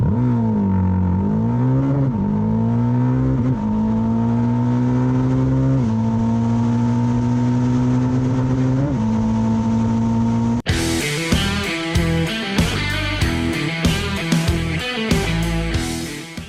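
A Jawa Perak motorcycle engine hums at steady revs, rising and dipping with the throttle, then snaps into sharp, rapid revving bursts, loud and close.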